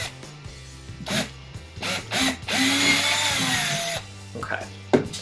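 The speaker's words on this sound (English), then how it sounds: "So I just drilled into the coconut" A power drill boring holes into a coconut: short whirring bursts, then a longer sustained grinding run through the shell, with brief mechanical clicks and handling knocks between.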